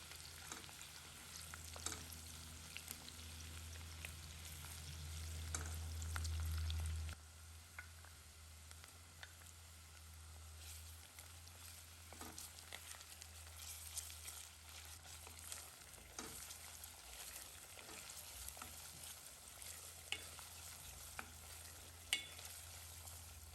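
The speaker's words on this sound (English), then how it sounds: "We're going to start by frying our onions in some oil" Onions frying in oil in a pan, a steady low sizzle with crackle and occasional stirring clicks, quiet and close, with no talking.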